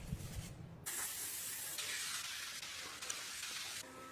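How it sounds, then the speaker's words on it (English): A handheld cleaning machine sprays a steady, close hissing jet onto a gas stove, running continuously with brief shifts in intensity and no talk. "She's still cleaning her gas stove using this machine."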